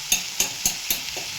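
Chopped onion and tomato being sautéed for chutney in a pan, soft sizzling broken by about five regular scraping strokes of a spatula, close and moderately loud, with no voices.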